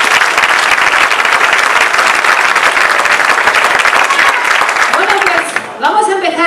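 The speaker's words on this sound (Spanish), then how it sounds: "Un aplauso también." An audience at a jota concert in Larraga, Navarra applauds loudly and steadily, many hands clapping together, before the clapping fades and music takes over at the end.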